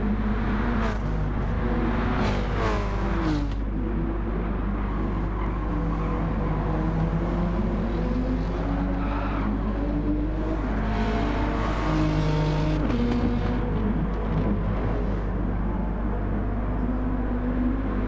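Race car engines in Gran Turismo 7 at Brands Hatch, with a Scirocco in the field, drone steadily and loudly throughout, their pitch rising and falling through gear changes as cars circulate close together.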